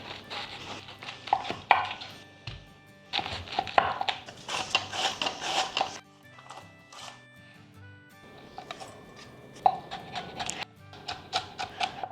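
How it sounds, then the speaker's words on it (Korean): A knife cuts cabbage and carrots into thin strips on a board, making quick bursts of close, crisp chopping taps that pause briefly and then resume. "양배추 샐러드랑 당근을 채 썰 겁니다"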